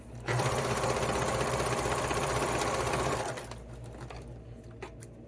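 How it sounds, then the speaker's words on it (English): A home sewing machine runs a straight stitch joining fleece hat band pieces, a loud, steady whirring drone lasting about three seconds that then stops, leaving faint clicks and fabric handling. "I'm going to stitch them together with my machine using a straight stitch"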